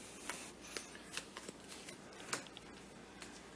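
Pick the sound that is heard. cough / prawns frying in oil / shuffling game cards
shuffling game cards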